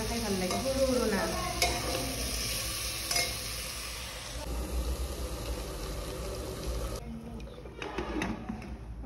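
Pieces of taro sizzle in a pan while being lightly fried and stirred, a close, steady crackling hiss with scraping stirs, fading quieter toward the end with no one talking.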